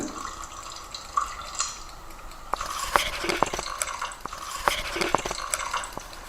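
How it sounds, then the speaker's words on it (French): Sugar and water slosh and scrape softly in a saucepan over high heat as they are stirred, with scattered clinks and light splashes at close range. "En tournant un petit peu, afin que le sucre soit complètement dissous."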